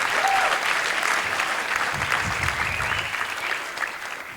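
Audience applause at a Spokane River fundraiser, honouring $2,500 donors: dense, steady clapping from a crowd, loud and sustained throughout with a slight fade toward the end, plus faint voices underneath.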